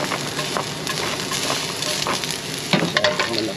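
Ginger frying in a pan for Ilocano bamboo shoot adobo, a steady close sizzle with light stirring scrapes and small crackles near the end.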